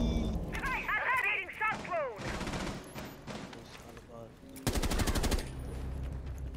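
Gunfire in the video game Rainbow Six Siege, including shotgun blasts, sounds in sharp loud bursts amid game noise, with a player talking over parts of it.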